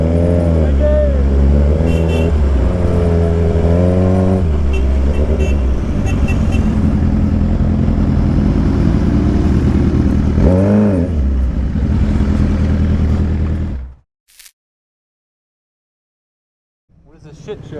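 An old Triumph motorcycle engine running steadily up close with a throaty idle and a couple of revs, then cutting out abruptly near the end, leaving brief silence.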